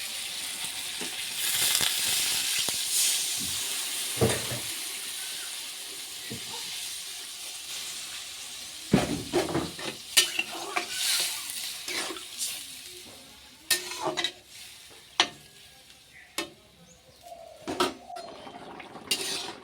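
A vegetable curry fries with spices in a home kitchen, hissing and sizzling while a spoon scrapes and clanks against the pot in irregular bursts.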